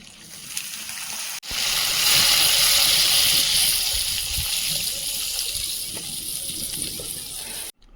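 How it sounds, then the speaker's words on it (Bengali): Water gushes steadily into a pot of meat curry on the stove, a loud continuous pour close by that starts abruptly and cuts off near the end. "জল দিয়ে দেবো ঝোলে ফুটতে দেবো"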